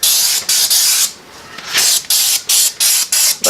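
Lubricant sprays onto a tire while a Ford AA Doodlebug tractor tire tube is being changed, in loud, close aerosol hisses: one long burst, then a pause and a quick string of short, evenly spaced squirts.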